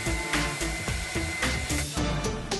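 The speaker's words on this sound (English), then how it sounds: "then out came the blow dryer" A blow dryer runs steadily on a dog during grooming, a loud continuous whooshing roar with small shifts in pitch as the nozzle moves, close by and alone with no talk.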